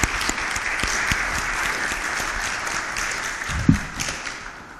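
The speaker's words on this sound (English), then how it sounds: "I'd like to show gratitude to Jonathan if we could give him a round of applause" A crowd at a keynote session on race and faith applauds a man named Jonathan, with steady dense clapping throughout and a sharp louder clap near the end.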